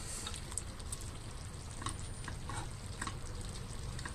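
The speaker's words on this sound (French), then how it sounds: "on n'hésite pas à mélanger encore un petit coup" A tagine of tomato sauce, olives, potatoes, onion and garlic is stirred in a pot, giving a steady soft simmering bubble with light scraping clicks of the spoon recurring throughout, close and alone.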